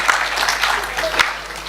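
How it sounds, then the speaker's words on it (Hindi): Brief burst of audience applause during a Hindi spiritual discourse, clapping loudly for under two seconds with a voice faintly underneath. "हाँ ताली बजा लो"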